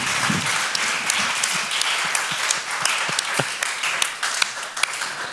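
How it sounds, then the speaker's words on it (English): An audience at a talk on universalism applauds the speakers, steady, dense clapping from many hands that carries on throughout. "We should give them all another big round of applause."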